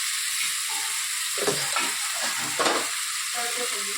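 Tempering spices with green garlic crackle and sizzle loudly in hot oil just after a flare-up, a dense continuous frying hiss with a few sharper bursts of spattering.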